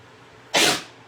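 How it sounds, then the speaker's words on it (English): A single sharp sneeze, close and loud, bursting out of a quiet room and fading over a fraction of a second. "sorry, I'm going to sneeze"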